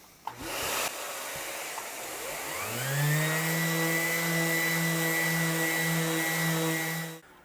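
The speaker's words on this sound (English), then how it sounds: "I think it's time we start doing some sanding work on this body." A power sander running on a guitar body, spinning up with a rising whine then holding a steady loud droning tone with a rough hiss, close by and alone before cutting off.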